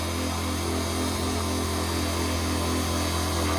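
A paramotor engine drones steadily under throttle during a training run with the trainee hung from a tree, a continuous loud buzzing hum with no breaks, heard up close.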